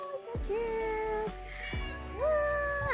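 A cat meows twice nearby at a beach setting in Thailand, each call drawn out with a rising and falling pitch, over low background noise and clicking.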